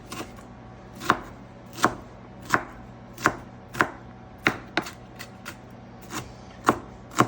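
Food being chopped finely on a cutting board for American chop suey, a steady series of about a dozen sharp knife strikes at an even, unhurried rhythm, close and clear with no talking.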